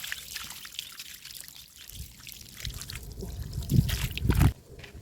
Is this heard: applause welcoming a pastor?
no